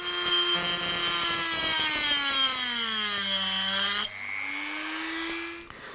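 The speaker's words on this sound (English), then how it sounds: "these lugs here have to be removed, and I'm just going to quickly do that with a Dremel" A Dremel rotary tool cuts lugs off a model railway locomotive, giving a loud, steady whine whose pitch sags under load, then drops and rises again, running alone with no talk.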